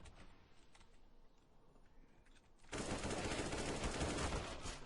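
Rapid automatic gunfire in Counter-Strike: Global Offensive, a low steady rattle that abruptly becomes louder, dense continuous firing for the last two seconds.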